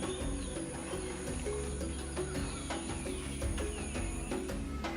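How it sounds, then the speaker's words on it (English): Birds call and chirp in the forest canopy of Bwindi, Uganda, scattered short tweets and coos layered over a steady dense background of insect-like hum and forest ambience, with no voices. "350 species of birds fill the air with song"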